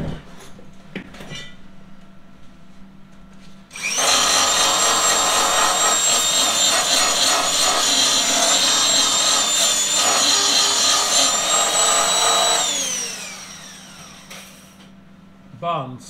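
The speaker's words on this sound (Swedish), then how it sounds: "Jag måste slipa lite mer där." Belt sander working on wood, a loud steady grinding roar with a high whine that starts abruptly, holds for about nine seconds, then winds down, with quieter handling noises and faint talk around it.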